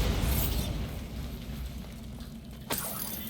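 A Bombarda spell explodes in the video game Hogwarts Legacy: a single sharp, sudden blast near the end, following a stretch of low rumbling ambience.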